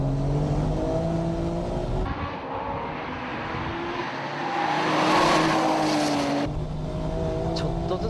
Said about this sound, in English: Yes, the Porsche showing some fatigue running 2 races in a row.